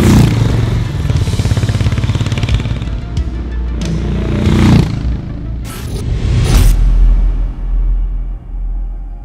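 A Harley-Davidson X440 motorcycle engine rumbles loudly and close, with revs rising and falling, a few sharp mechanical clatters and bursts over a deep, steady low drone.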